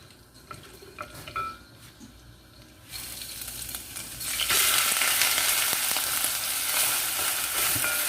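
Quiet kitchen clatter gives way to loud, steady sizzling of hot oil in a pot for jollof rice, a dense hiss that swells and holds close by.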